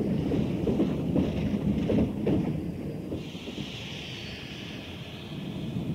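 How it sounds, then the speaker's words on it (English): A train pulling in as a radio-drama sound effect: a low steady rumble with rattling bursts, then a hissing brake squeal rising over it as it slows, moderately loud with no talk. "Here comes the train."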